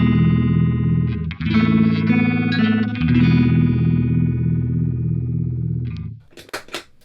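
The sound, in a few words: guitar through EHX Goodvibes pedal at maximum speed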